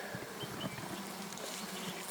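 Honey bees from a swarm housed in a log hive hum in a dense, continuous drone, close and moderately loud, with no talking.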